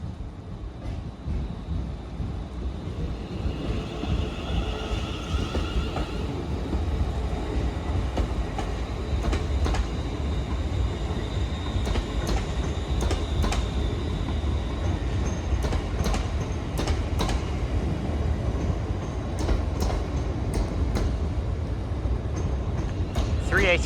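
A ScotRail Class 380 electric multiple unit, unit 380-105, pulls into Glasgow Central station, its steady rumble and rolling wheel noise filling the platform throughout with brief higher squeals and clatter, no voices heard.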